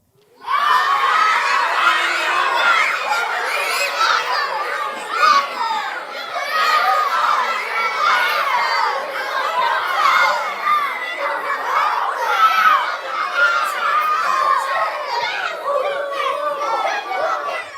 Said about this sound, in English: I need you to yell at Abdul Salam like you're really, really angry at him.